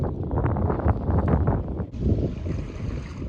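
Strong wind batters the microphone on a rocky Irish sea-fishing shore, a steady broadband roar with gusty buffeting that shifts character midway, no voices present.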